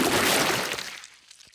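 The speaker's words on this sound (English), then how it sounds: "Peppa has thrown the muddy water all over the car" A cartoon bucket of muddy water splashes over a car in one loud, broad gush that quickly drains away into a few faint drips and trickles.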